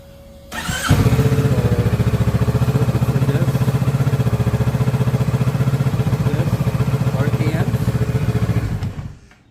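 A 2023 Kawasaki Ninja 650 ABS KRT motorcycle engine starts and then idles steadily, close and loud, with an even pulsing rhythm until it cuts off near the end.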